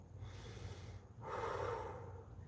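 Deep, audible breaths during a Pilates exercise, a long exhale followed by a stronger rushing breath, close and alone.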